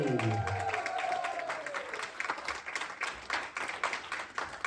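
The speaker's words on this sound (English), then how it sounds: "If you can continue to hear my voice, clap your hands and keep them together" Audience at a public speaking session claps hands in steady applause, with a few voices at the start and the clapping continuing and thinning slightly toward the end.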